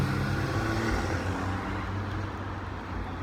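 Outdoors, a Porsche car passes on a city street as a steady, broad road rumble, moderately loud throughout and easing slightly toward the end, with no voices.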